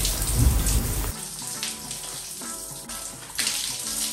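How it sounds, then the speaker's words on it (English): A shower runs with a steady hiss of spraying water that starts with a loud burst, then settles into a continuous splashing patter, with no one talking. "it is time to shower now."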